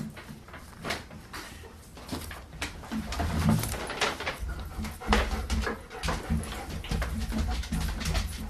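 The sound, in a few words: dog whimpering as it comes into the room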